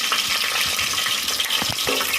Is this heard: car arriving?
no